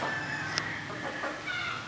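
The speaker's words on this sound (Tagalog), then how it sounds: "At saka magaling na manok to" A Kearney White Hackle gamefowl rooster gives soft, faint clucks with one short sharper note, quiet against a steady outdoor background hiss.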